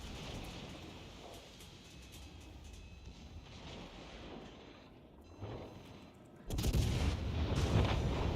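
Warship guns firing HE shells in World of Warships: Legends, muffled booms and rumbling under game ambience, ending in a sudden loud burst of cannon fire.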